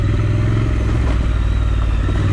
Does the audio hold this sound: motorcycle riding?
yes